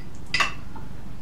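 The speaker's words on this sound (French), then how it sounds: "on va commencer par mettre le beurre dans la casserole" A single short metallic clink as butter goes into a saucepan for choux pastry, close and crisp against quiet kitchen background, with no talk over it.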